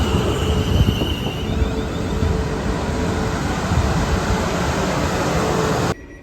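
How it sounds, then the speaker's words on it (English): A passenger train on the line toward Guildford rumbles steadily and loudly for several seconds, a continuous broad roar of wheels and carriage noise recorded up close, ending abruptly. "Here's my train. It's going to take me to my first stop,"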